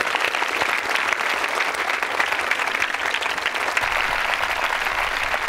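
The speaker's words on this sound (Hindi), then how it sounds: "तालियां बजाइए पायल जी के लिए" Steady, loud applause from an audience at a college quiz show fills the room, a dense, unbroken patter of many hands clapping throughout.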